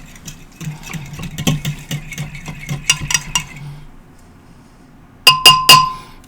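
A fork stirring a bread mixture vigorously in a bowl: a few seconds of quick, rhythmic scraping and clinking, a pause, then three loud, ringing clinks close up.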